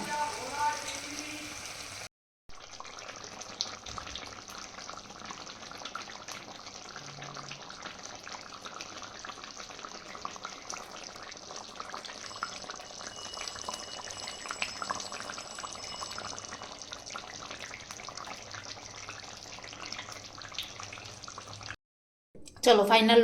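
Water pours into a pan of cooked chicken curry in one continuous rushing hiss lasting about twenty seconds, fairly close and even in loudness, with brief quiet moments before and after.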